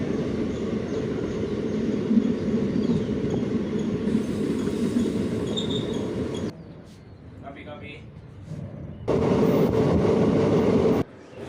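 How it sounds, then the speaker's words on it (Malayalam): A passenger train on the Shoranur–Nilambur line rumbles steadily and loudly. Its sound drops to a quieter interior hum midway, then swells again. "വണ്ടി വയലാപ്പുഴ എന്ന സ്റ്റേഷനിലെത്തിയിരിക്കുന്നു"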